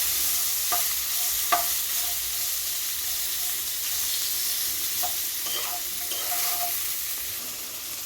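Food is stirred in a pan after salt and turmeric are added, producing a steady close sizzle and hiss with a few sharp utensil clinks and scrapes spaced irregularly throughout.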